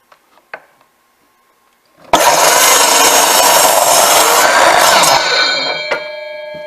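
Wooden table legs sawn to length by hand, a continuous loud rasping stroke of a saw through timber lasting about three seconds, close up, preceded by a few light knocks and ending with a tap.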